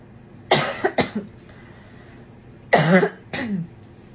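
Four short coughs from one person close up, two quick ones followed by a pause and then two more, loud against a quiet room.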